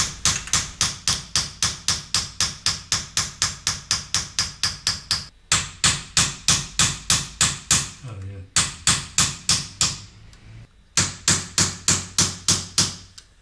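Rapid, evenly spaced hammer blows ring out on silver in a silversmith's workshop, in several long bursts with short pauses between them, loud and close.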